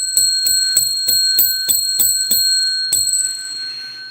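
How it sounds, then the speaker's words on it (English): A hand bell is struck about ten times in a quick, even rhythm, each strike loud and bright, and the final ring decays into a fading shimmer. "I will ring the bell 10 times."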